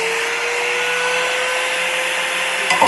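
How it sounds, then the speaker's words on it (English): An angle grinder cuts a metal cylinder clamped in a vise, a steady high-pitched whining grind held evenly throughout, close and loud, with a brief clatter near the end. "we're just gonna nip off this little part with the angle grinder here"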